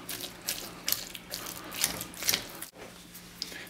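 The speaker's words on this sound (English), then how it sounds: "Now I'm going to add in rinsed black beans, and I'm going to mash those in too." Rinsed black beans and butternut squash being mashed with a serving fork, a series of soft, close squelches and irregular metallic clicks against the bowl.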